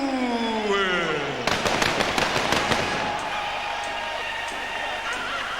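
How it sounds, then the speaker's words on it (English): Fireworks burst in a rapid crackling series over a cheering arena crowd celebrating a heavyweight boxing title victory, following a ring announcer's voice, then a dense, loud rumble of explosions fading into ongoing crowd noise. "Fireworks to celebrate."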